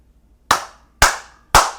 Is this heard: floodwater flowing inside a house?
no